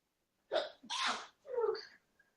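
A close, loud sneeze in several bursts: a sharp intake, an explosive blast, then a trailing second burst, followed by silence.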